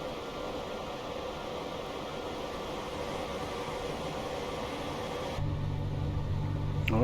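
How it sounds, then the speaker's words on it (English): A Class 87 electric locomotive running in Train Simulator Classic, a steady broadband rumble and hiss of motion that grows louder and fuller near the end, with no talk. "let's open the windows and get a bit more of the train sound"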